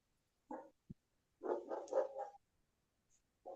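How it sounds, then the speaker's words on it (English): A distant dog barks faintly a few times in short separated bursts, with a quiet room around it and no talk during the barks. "I hear a dog."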